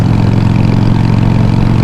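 A Harley motorcycle engine fitted with an aftermarket exhaust runs steadily and loudly at idle, a deep continuous rumble with no breaks and no voices.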